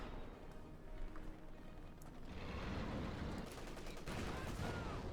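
Gunfire from the World War II strategy game Company of Heroes 2: dense bursts of rifle and machine-gun fire with rumbling explosions, a thick battle din that swells louder midway.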